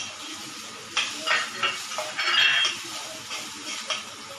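Garlic paste and a small carrot hit a hot pan for Chinese-style noodles, giving a soft sizzle with a few stirring scrapes and light utensil clinks against the pan.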